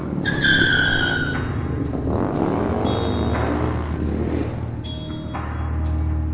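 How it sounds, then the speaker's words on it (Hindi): A cartoon motorbike carrying three riders revs and speeds off with a whooshing, skidding engine sweep, accompanied by bright tonal sound effects, fairly loud and continuous. "गुल्ली बुल्ली और रॉड एक बाइक पर सवार हो जाते हैं और बाइक लेकर वहाँ से जाने लगता है।"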